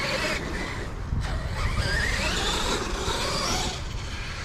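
A HPI Savage X RC monster truck driving hard over thick grass, with a continuous loud buzzing engine roar and rough rumbling as it tears across the ground.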